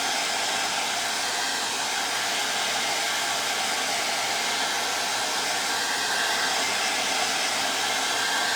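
A hair dryer blows steadily on sheets of faux rice paper, a loud, constant close whirring roar that runs unbroken throughout with no talk.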